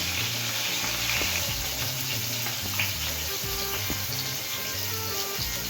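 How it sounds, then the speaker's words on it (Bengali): Green chili and tomato fry in a hot pan with a continuous dense sizzle, with occasional soft clinks and stirring. "তার মধ্যে দিয়ে দেবো হচ্ছে কাঁচা লঙ্কা, টমেটোটা দিয়ে ভেজে নেব"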